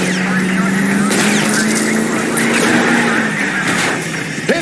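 A car engine roars steadily through a car chase in LA Noire, a loud sustained drone with pitch gently rising and falling, joined by other traffic noise and brief bumps near the end.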